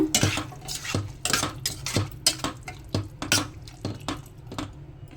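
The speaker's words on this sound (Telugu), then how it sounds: "మనం చింతపండు పులుసు పోసుకుందాము ఒకసారి కలుపుకుందాము" Tamarind juice poured into a dried fish curry and stirred, with a ladle clinking and scraping against the pot in a steady rhythm of knocks alongside soft wet sloshing, close and moderately quiet.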